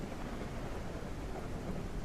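A stormy outdoor soundscape: a steady, close roar of rain and wind buffeting the microphone, with no distinct thunderclap and no voices.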